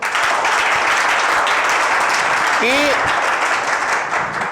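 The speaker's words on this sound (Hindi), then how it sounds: "तो फैसले के लिए ताली बजा दो आप" Audience applause at a drug rehabilitation centre gathering, a dense steady wash of clapping filling the whole stretch, with a brief voice rising over it midway.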